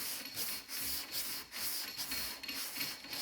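Close, steady rhythmic block sanding on the body of a 1963 Cadillac Coupe Deville, a rasping scrub in repeated back-and-forth strokes, moderately loud with no voices.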